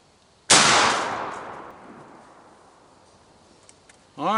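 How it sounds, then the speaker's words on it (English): A shotgun fires a single sharp, loud blast of Winchester Long Beard turkey load on an outdoor range, followed by a long decaying echo rolling away, then a brief new sound starting at the end. "So I shot twice at 60 yards."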